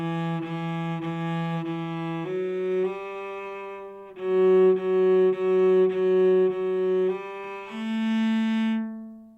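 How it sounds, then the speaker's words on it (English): A sustained melodic instrument plays a legato line, its notes slurred smoothly into one another in connected phrases, loud and close with no talk. "two or more different pitches may be slurred together, in which a string player does not change bow direction"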